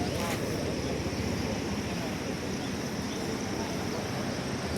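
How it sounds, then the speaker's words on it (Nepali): Roshi Khola floodwater surging across a mud-blocked stretch of the BP Highway in Nepal, heard as a steady, loud, unbroken rushing roar with wind buffeting the microphone throughout. "फेरि उताबाट पानी आयो"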